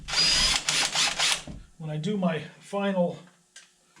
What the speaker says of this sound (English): Now here I'm screwing through the aluminum that's on the back side that I just added